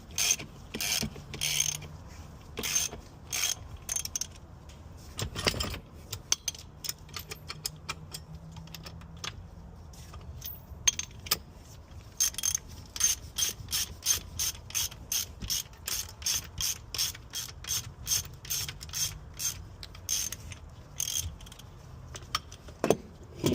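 Hand wrench or ratchet clicking in rapid bursts while bolts are tightened on a junkyard BMW engine, close and fairly loud, with short pauses between runs of sharp metallic ticks.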